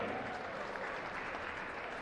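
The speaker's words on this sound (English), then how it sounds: "Again, another nice round of applause for your 7th and 8th grade boys basketball teams." A gym crowd gives a steady, dense round of applause for 7th and 8th grade boys basketball teams, continuous clapping with no pauses.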